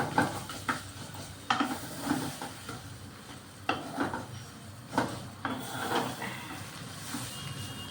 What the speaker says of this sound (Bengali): আর এরকমই নেড়ে চেড়ে এরকম একটু কাদা কাদা করে দেবেন